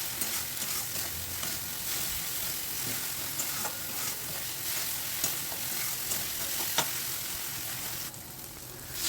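Ground spices fry in hot oil in a pan while being stirred for a Bengali fish curry, a steady soft sizzle with faint scraping clicks scattered throughout, close and unaccompanied by speech.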